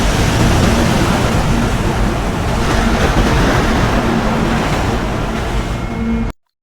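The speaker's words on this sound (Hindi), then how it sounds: "लहरें।" Night ocean waves break against the rocks of Dragonstone in a House of the Dragon scene, a loud, continuous wash of surf that cuts off abruptly near the end.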